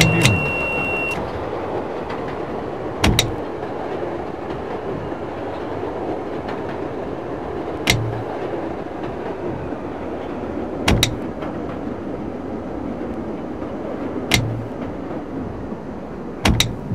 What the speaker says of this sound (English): Doors open on the right at Library